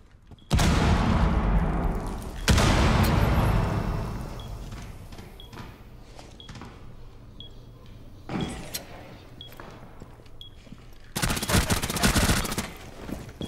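Suppressed gunfire in Rainbow Six Siege, with two loud bursts near the start and another near the end, plus scattered quieter pops and clatter in between.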